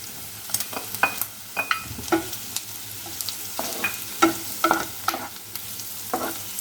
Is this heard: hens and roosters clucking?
no